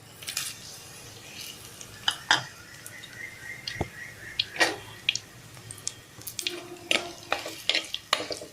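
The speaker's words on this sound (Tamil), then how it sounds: "எண்ணெய் சூடாயிடுச்சுங்க. வடகம் சேர்த்து தாளிச்சோம்னா கருவாட்டு குழம்பு சூப்பராக இருக்கும்." Vadagam seasoning of cumin, fenugreek and garlic hits hot oil in a clay pan, a soft sizzle with scattered stirring clinks and scrapes close by, for a dried-fish kuzhambu curry.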